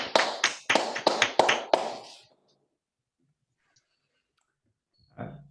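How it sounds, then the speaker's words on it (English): A few people at an online talk clap into their microphones, about six sharp, separate claps in two seconds, then near silence with a faint noise at the end. "Let's all unmute and give Orit a round of applause."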